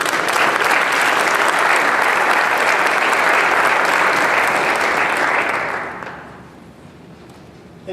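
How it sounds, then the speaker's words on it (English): An audience at an academic recognition and graduation ceremony gives loud, sustained applause for several seconds, which tapers off quickly as the room quiets. "We'll give them a round of applause."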